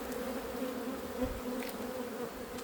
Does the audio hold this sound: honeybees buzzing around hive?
yes